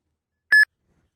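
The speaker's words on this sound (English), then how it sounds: "Your phone will start beeping" A single short electronic beep from an Uber driver's phone signalling a trip request, clear and bright, in otherwise total silence.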